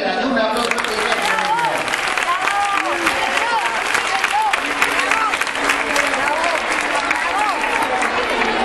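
Loud, sustained applause from an audience at a Rioja Day celebration of the Siete Infantes, dense and even from start to finish, with whistles and cheers mixed into the clapping.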